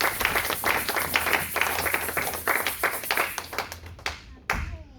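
A church congregation applauds together, a dense, steady patter of many hands clapping at close range that thins out and briefly swells again near the end.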